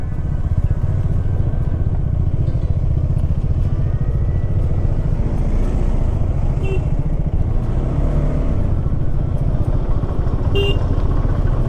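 A motorcycle engine runs steadily at close range amid road noise in a traffic jam on the mountain road from Lachung to Gangtok, with a couple of short car horn toots.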